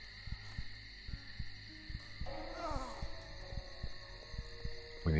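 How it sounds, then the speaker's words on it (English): Heartbeat effect in the Vampire: The Masquerade - Redemption video game, a steady series of low thumps repeating through the stretch over a humming ambient game soundscape with brief tonal swells. "We need to listen to the heartbeat."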